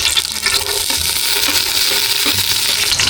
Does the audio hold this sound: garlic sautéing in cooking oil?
yes